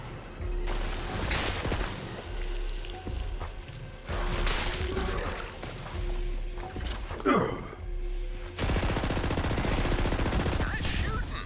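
Heavy, sustained automatic gunfire in the Borderlands 3 shooter game, loud continuous bursts with brief pauses, mixed with mechanical game effects.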